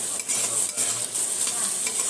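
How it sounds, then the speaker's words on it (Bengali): Potato and bitter gourd slices sizzle in a pan while being stirred, with scraping strokes of the spatula at a steady rhythm, close and continuous, no voices. "এই আলু উচ্ছে ভাজা করছি।"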